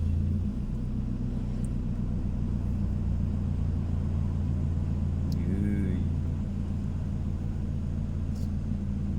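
A car heads down the Chong Takho mountain pass in Thailand, heard from inside as a steady, loud low engine and road rumble that holds evenly throughout.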